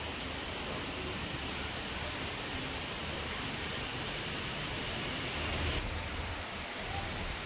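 Heavy cyclone rain pours down in a steady, dense hiss that stays constant throughout, with no voices over it.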